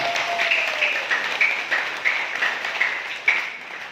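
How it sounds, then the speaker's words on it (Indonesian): Audience at a school gathering claps together in a steady broad wash, with a few sharper accented claps standing out; moderately loud and continuous, while faint whistle-like tones sit above it. "Tepuk tangan bersama."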